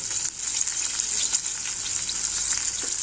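Chili powder tipped into hot oil for green moong dal curry, a steady hissing sizzle with soft crackles and faint stirring, near and without speech.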